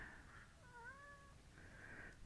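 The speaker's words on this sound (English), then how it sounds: "is wanting attention." An American Bombay cat gives a single drawn-out meow for attention, clear and fairly close, set over a quiet background hum with faint high tones on either side.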